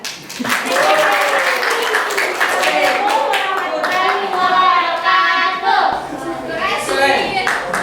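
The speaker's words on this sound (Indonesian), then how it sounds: "Kalau tidak ada, tepuk tangan." A classroom of students claps together in a lesson. The applause comes close and lively, mixed with children's voices calling out throughout.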